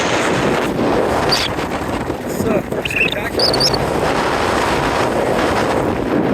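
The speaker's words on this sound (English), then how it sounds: "Very windy. That wind's not messing up the video." Strong wind buffets the microphone in a steady, loud roar on the Appalachian Trail, with a voice speaking briefly underneath and faint water or boat sounds in the background.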